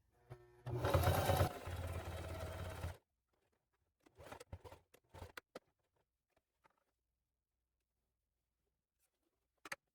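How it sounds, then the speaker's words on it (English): A sewing machine runs a brief burst of stitching along a handbag pocket line, loud and close for about two seconds, then stops, followed by scattered handling clicks and quiet. "I'm gonna sew up this pocket line."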